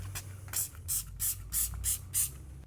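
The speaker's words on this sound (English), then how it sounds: "We spray it on." UltraCare Kerapoxy tile cleaner is sprayed onto tiles with a trigger bottle, six or seven quick hissing squirts in an even rhythm, close and fairly loud.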